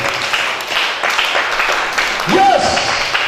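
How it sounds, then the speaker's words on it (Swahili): A church congregation claps for Jesus in a dense, steady patter of applause, with voices mixed in around it. "Pigia Yesu makofi."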